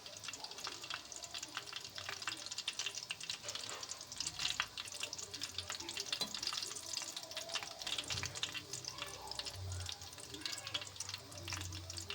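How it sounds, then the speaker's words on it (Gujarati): Continuous sizzling and crackling of gathiya dough frying in hot oil over a medium flame, steady and close throughout. "અહીંયા આપણે ગાંઠિયાને મીડિયમ ફ્લેમ પર તળાવવા દેવાના છે"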